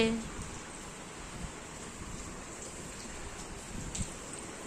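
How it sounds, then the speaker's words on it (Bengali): Continuous rainfall patters steadily nearby, a soft even hiss with occasional louder drops and a short voice fragment at the start. "এই বৃষ্টি ঝাপটা আসছে না তোর মুখে"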